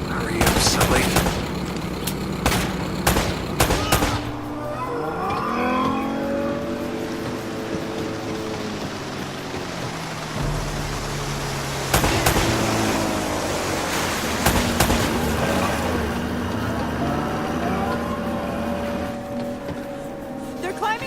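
Gunfire in the Uncharted video game: bursts of rapid shots crack in clusters at the start and again midway, mixed with rushing water and engine-like rumble, while characters talk between the volleys.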